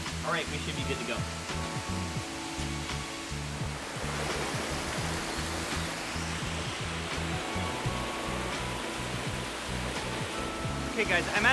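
Small waterfall in Japan, a steady broad rush of falling water beneath a voice speaking over most of it.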